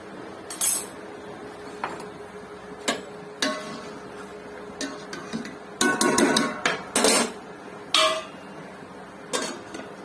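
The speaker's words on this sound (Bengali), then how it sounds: "এখন নাড়িয়ে দিলাম।" Metal spoon clinking and scraping against a cooking pot while stirring rice for homemade chicken biryani, with irregular sharp taps and a quick burst of rattling clinks in the middle, close and clear in a quiet kitchen.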